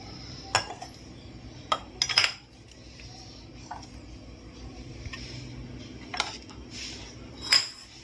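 Glass clinking as soaked almond gum and syrup are spooned into a glass for Jigarthanda, a few sharp light clinks and taps spaced out over quiet room noise.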